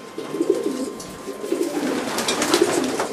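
Pigeons in a breeding loft coo repeatedly, with soft low rolling calls coming in short pulses close by over a background of faint loft noise.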